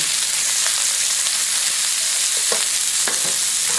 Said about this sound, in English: Don't add your garlic until the veggies have sauteed, okay? So get those sauteed.